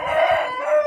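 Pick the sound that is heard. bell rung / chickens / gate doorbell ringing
chickens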